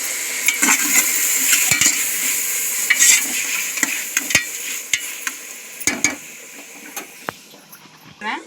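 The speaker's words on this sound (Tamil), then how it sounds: "இந்த தக்காளி வணங்குறதுக்கு உப்பு போட்டுக்கலாம்." Tomatoes with salt frying in a pan for biryani, a bright close sizzle broken by repeated scraping and knocking of a spoon as they are stirred, fading toward the end.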